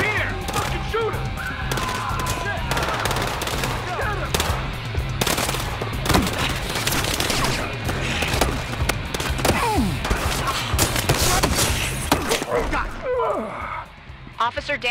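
Gunfire in the video game Battlefield Hardline, loud rapid machine-gun bursts and single shots crackling throughout, mixed with shouting voices and game noise.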